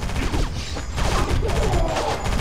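Rapid gunfire crackles in the shooter Area 51 on PS2, a dense, continuous burst of shots with clattering impacts, loud and close.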